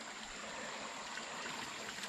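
A tiny runoff creek at Lake Bennet flows in a steady, close, unbroken trickle, with a bright, even wash of water noise and no voices.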